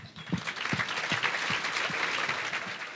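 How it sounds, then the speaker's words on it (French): An audience at an entrepreneurship summit applauds its partners, a full, even round of clapping from a crowded room that continues steadily for a few seconds. "On peut les applaudir."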